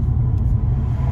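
BMW 330i with the N52B30 straight-six and a performance rear exhaust silencer, a loud, steady deep rumble close by, continuous with no voices.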